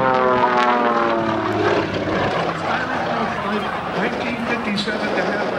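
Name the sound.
aerobatic airplane flying at an air show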